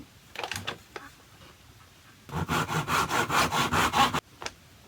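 Handsaw cutting a wooden paint stick at a 45-degree angle, with a few scattered strokes followed by a quick run of about ten rhythmic back-and-forth rasps, close and alone.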